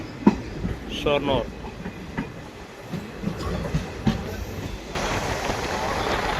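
A passenger train travelling from Vaniyambalam toward Shoranur rumbles along the rails with rhythmic clickety-clack and a steady roar heard from inside the carriage, and people talk over it.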